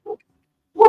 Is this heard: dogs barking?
yes